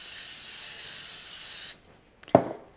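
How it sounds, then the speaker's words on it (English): A steady aerosol hiss of cooking spray coats a baking pan for under two seconds and cuts off, followed by a short clatter and a sharp knock. "prepare our baking pan by spraying it with a little bit of cooking spray"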